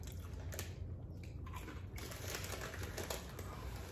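Crunchy smoky bacon-flavoured snacks being chewed up close, a steady run of crisp bites and crunches over a low background hum.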